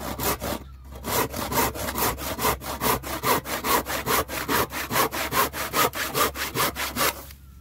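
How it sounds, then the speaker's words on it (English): A hand saw cuts through a rotten wooden end that has screws in it. The strokes are steady and rhythmic, close and clear, about twenty-five back-and-forth strokes after a brief pause, with no talk. "I want to cut off these ends because that's got some, well, it's kind of rotten and it's got screws in it."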